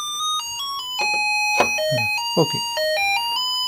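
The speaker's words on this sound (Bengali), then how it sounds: "এই 3 ভোল্ট দিয়ে আমরা এই কলিং বেলটা বাজাবো" A homemade calling bell powered by 3 volts plays an electronic melody of clear, stepped tones, one held note after another, while a person speaks briefly over it.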